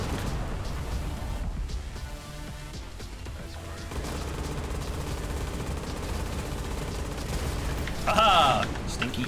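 Spaceship guns in the Everspace 2 space-combat game fire in a continuous, loud barrage of rapid shots with crashing impacts, under game music and a brief voice near the end.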